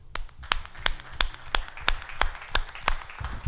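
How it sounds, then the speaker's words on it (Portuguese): Church congregation at a Portuguese-language service clapping in unison, a steady rhythmic beat of about ten sharp claps, moderately close and free of talk. "Uma salva de palmas ao Senhor,"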